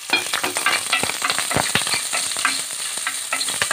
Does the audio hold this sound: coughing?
no